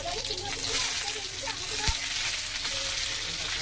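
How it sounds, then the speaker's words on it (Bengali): Chopped onion fries in oil with dried chillies, bay leaves and panch phoron, making a continuous close sizzle with a brief stir, and faint talk in the background. "পেঁয়াজটা একটু ভাজা ভাজা হয়ে গেলে"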